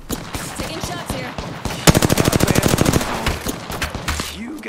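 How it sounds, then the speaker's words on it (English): Gunfire in the Apex Legends video game: scattered shots, then a rapid automatic burst of about a dozen evenly spaced rounds, with more shots trailing off afterward. "Taking shots here."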